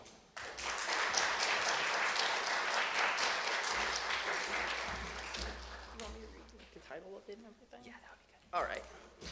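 Audience applause welcoming a student performer at an accessibility achievement ceremony: sustained dense clapping for about five seconds, then fading into scattered claps under a voice.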